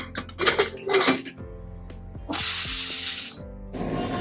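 A pressure cooker cooking wheat kheer gives off one loud, sharp steam whistle about a second long, which cuts off abruptly. Metallic clinks and rattles of the pot come before it, and a softer hiss continues afterward.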